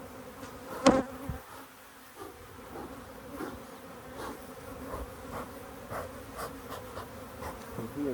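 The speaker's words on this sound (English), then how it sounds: "Just listen to the tone of the bees as the smoke comes out" Honeybees hum in a dense, steady drone close by in a hive being smoked, with occasional louder buzzes and a few light knocks and clicks.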